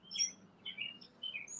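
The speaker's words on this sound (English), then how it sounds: "I don't know where the bird is coming." A bird gives a series of short, high chirps in quick bursts, moderately clear and fairly close, in an otherwise quiet room with no talking.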